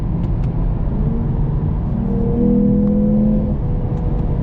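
The engine of a 2024 Lexus IS 350 F-Sport pulling hard from inside the car, a loud, steady droning growl that rises in pitch as it accelerates, close and continuous throughout.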